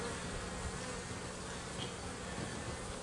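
Honey bees in an opened hive make a steady, close, even buzz, a dense hum that holds unchanged throughout without talk.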